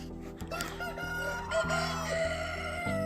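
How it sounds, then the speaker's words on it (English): Chickens cluck and crow together over a steady, dense backdrop, the calls overlapping continuously without pause. "That's how these chickens sound."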